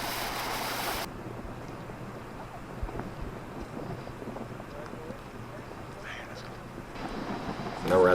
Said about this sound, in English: That microphone is going to pick up any kind of wind sound blowing directly at it.